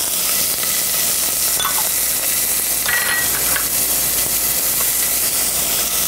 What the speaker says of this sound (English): we're going to let that cook in the hot fat until it wilts down